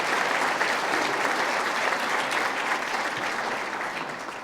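Sustained applause from the audience at a 2020 State of the City address, a dense, even clatter of many hands heard at moderate distance that eases slightly toward the end.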